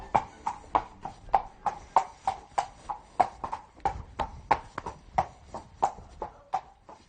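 Horses of the Cadre Noir de Saumur walking on a hard surface, their hooves giving a clear, even clip-clop of about twenty crisp strikes at a steady rhythm, close by and with no talk over them.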